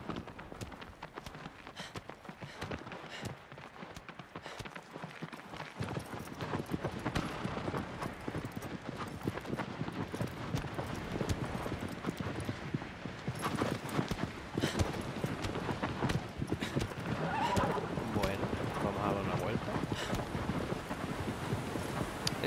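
Hooves clip-clop in a steady galloping rhythm as a horse runs in Shadow of the Colossus, loud and close over wind noise, starting quieter then building into continuous pounding strides.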